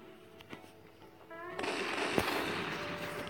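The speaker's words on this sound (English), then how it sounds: "I tried to no-scope. That's my shotgun." Shotgun fire from the mobile shooter Pixel Gun 3D: a few sharp, cracking reports come over a rising wash of in-game noise that fills the latter half.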